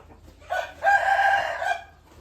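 A rooster crows once, loud and close, a drawn-out cock-a-doodle-doo over faint background noise.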